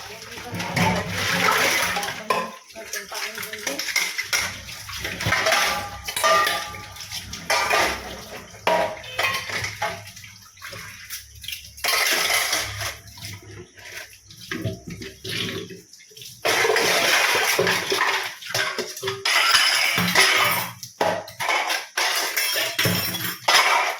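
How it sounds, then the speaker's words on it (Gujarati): Water runs and splashes while dishes and pans clatter and scrape, loud and close, with brief pauses between bursts of washing. "જો વાસણ ઘસવાના છે વાસણ ઘસી લઈએ આપણે"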